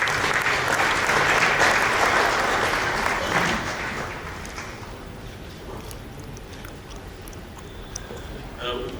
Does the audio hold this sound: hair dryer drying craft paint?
no